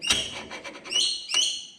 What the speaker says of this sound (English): Birds are going bloody crazy here today, you can probably hear that in the background.